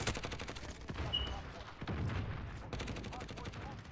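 Assault rifle gunfire in a video game, quiet rapid automatic bursts with a crackling repeated rhythm and short pauses, faint and low in level, with some background voice.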